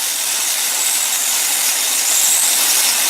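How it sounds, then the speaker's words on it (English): A stick welding rod burns and melts over a weld, a loud, steady crackling hiss that holds evenly throughout with no speech. "I just melt that right back over there, out of my way, and I start that weld again with the same little clear bubble"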